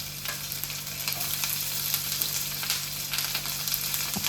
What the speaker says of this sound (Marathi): आता हा कांदा जो आहे आता इथे व्यवस्थित परतून घ्यायचा आहे.